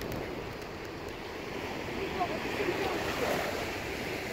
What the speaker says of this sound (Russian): Видите, какая мутная, грязная вода бьет к берегу.